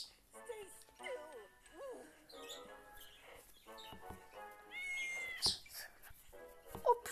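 In a cat video game, a cartoon cat gives several short meows mixed with chirpy game effects, fairly faint and broken up, with a person talking over parts of it.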